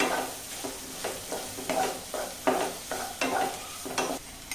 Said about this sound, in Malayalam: അപ്പോൾ സവാള ഇടുമ്പോൾ നമ്മൾ കുറച്ച് ഉപ്പും കൂടെ ചേർത്ത് കൊടുക്കുക.